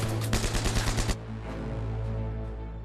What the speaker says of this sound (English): As a machine gun from a nearby ridge targets the castle